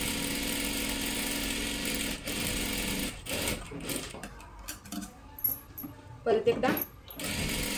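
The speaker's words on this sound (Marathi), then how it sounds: "आता इथे आपल्याला डबल शिलाई मारून घ्यायची आहे" A sewing machine runs a double stitch along a dress seam, whirring steadily at first, then stopping and restarting in short bursts with fabric handling noises, while someone speaks briefly.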